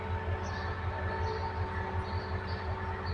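A BTS Skytrain Silom Line train at Saphan Taksin station in Bangkok, heard as a steady, moderately loud rumble of wheels and motors with a faint hum, running continuously for the short stretch.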